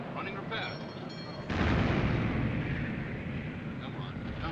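Heavy naval gun fire from a warship's turret, staged as a film sound effect in a 1956 Battle of the River Plate battle scene: a sudden loud blast midway that swells into a sustained rumbling roar.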